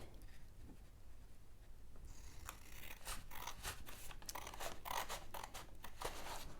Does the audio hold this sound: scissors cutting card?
yes